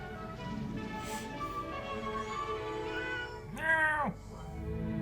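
A cat meows once, loud and near, a rising-falling cry standing out over faint background voices and room sound.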